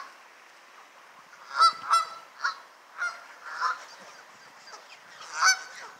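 Geese honk several times in loud, irregular bursts, some close together, with quiet outdoor background between calls, in Central Park, Schenectady.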